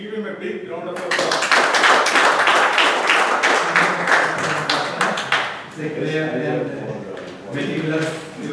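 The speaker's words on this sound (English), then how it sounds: "give him a big round of applause." An audience at a Toastmasters meeting breaks into a burst of dense applause lasting several seconds, then thins out with voices mingling in.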